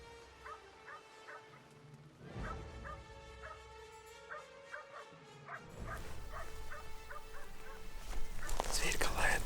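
A hunting dog bays at a bear about 240 metres off in a forest ravine, its repeated yelping barks ringing out distant but clear, growing busier and louder toward the end.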